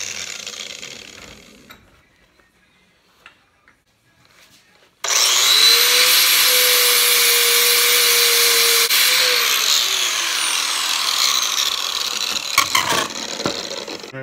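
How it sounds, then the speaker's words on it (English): A 4G63 throttle body elbow being ground flatter with a power tool gives a loud, steady, close grinding whine that runs for about nine seconds, then trails off after quieter handling noises. "I'm going to grind her a little flatter"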